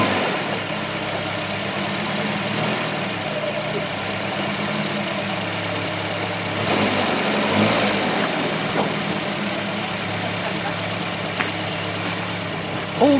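A 1985 Iltis engine runs at a steady idle, a continuous mid-low rumble with faint knocking throughout, while people talk quietly near it.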